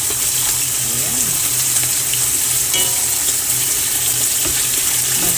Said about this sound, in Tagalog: Magluto tayo. Pork shogayaki.